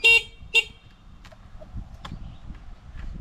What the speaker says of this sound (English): There's also a horn.